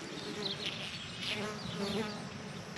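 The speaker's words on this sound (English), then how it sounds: "This here is a volunteer squash plant that the bees are also loving." Bees buzz steadily around the flowers of a volunteer squash plant in a garden, several insects droning close and continuously with shifting pitch as they move about, no voices present.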